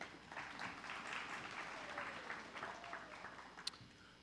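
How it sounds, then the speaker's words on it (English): Applause for a panel at a conference on color lines, a faint, distant patter of clapping from a modest audience that rises and thins over a few seconds, with a voice faintly underneath. "Let's give them another round of applause"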